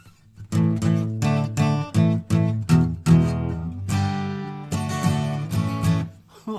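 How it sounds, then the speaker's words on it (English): A 1987 Guild D60 acoustic guitar rings out in a run of strummed chords, each stroke full and resonant with a bright attack, played close with no voices. "It's a Guild D60 from 1987. And it sounds like this."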